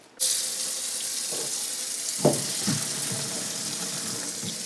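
Boiled potatoes are poured into a colander at a kitchen sink, a steady close rush of running water with a few soft thuds and clunks partway through, and no voices.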